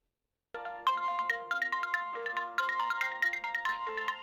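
A phone ringtone starts after a brief silence and plays a bright, repeating melodic chime of clear, bell-like notes at moderate loudness.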